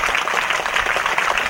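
Dense, steady applause from a seated audience at a Tamil public speech, a continuous wash of many hands clapping at close range with no voices over it.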